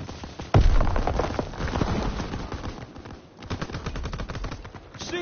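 Dense gunfire rattles through a WW2 video game battle: bursts of rapid machine-gun fire with sharp rifle shots on top, loud and continuous, a heavy blast near the start, no voices.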